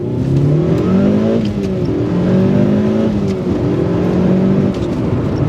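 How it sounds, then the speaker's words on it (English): A Mitsubishi Lancer Evolution IV rally-bred road car driving hard, its engine loud and close as it revs up through the gears in rising sweeps, with brief dips between shifts and no talking. "Driving the Evo 4."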